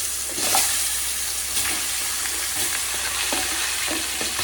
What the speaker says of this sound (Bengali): মাছগুলো আগে সব আমি প্রথমে ভাজা করে নেব।